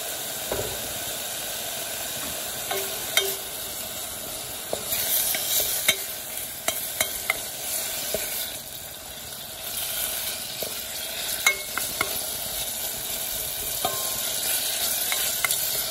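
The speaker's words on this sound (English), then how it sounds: "once this oil heats up, the bacon is going to burn" Bacon fries in hot oil in a non-stick pan, a steady close sizzle and hiss broken by occasional sharp pops and scraping stirs, with no talking.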